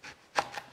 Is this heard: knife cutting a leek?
yes